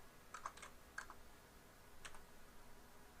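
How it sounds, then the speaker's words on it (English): Faint, scattered keystrokes on a computer keyboard, a few quick taps in small clusters with gaps between, soft and close against a quiet background. "Let's type in here"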